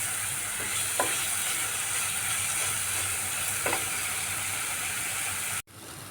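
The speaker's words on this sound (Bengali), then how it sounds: "এবার মশলাটা খুব সুন্দর করে কষিয়ে নিতে হবে" Spice paste with gram flour fries in a pan, a constant hissing sizzle broken by a few faint scraping stirs, cutting off abruptly near the end.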